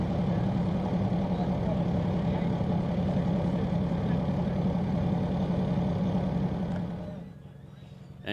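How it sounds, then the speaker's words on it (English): Blown gas competition coupe in the AA class racing at Speedweek, its engine a steady, loud low drone that holds for about seven seconds before easing off and fading near the end; no talk over it. "Engine sounds quiet for being a AA."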